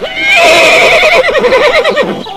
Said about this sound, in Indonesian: suara apa ya itu? Kuda.